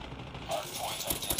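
Gunfire in the mobile shooter Call of Duty Mobile during a Hardpoint match, a brief burst of several quick shots over busy game noise, moderately loud and close.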